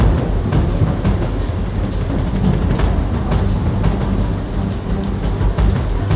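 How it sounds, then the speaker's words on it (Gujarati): Heavy monsoon downpour in Bhabhar, Gujarat, during flooding, a loud dense continuous roar of rain on surfaces with occasional low thunder rumbling underneath. "ભાભરમાં 10 ઇંચ વરસાદ તૂટી પડતા સર્વત્ર જળબંબાકાર"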